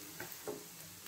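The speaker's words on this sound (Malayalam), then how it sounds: "ഇനി നമുക്ക് റൈസ് ആഡ് ചെയ്യാം." Two cups of basmati rice being stirred in a pan for chicken fried rice: a few brief, faint scraping stirs with a light sizzle underneath, close by and without talk.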